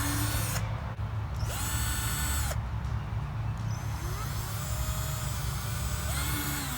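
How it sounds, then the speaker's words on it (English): A power drill bores holes in a compost bin lid, in several bursts of whining spin that start and stop with short pauses between, close up over a steady background hum. "we finished drilling the holes and the lid is ready to go"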